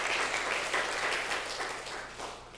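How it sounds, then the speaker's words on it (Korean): A church congregation at a hymn worship gathering offers a short round of applause to God, the dense clapping fading gradually toward the end. "우리 하나님께 다 함께 우리 영광의 박수를 올려드렸으면 좋겠어요"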